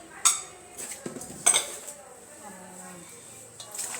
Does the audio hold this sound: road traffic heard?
no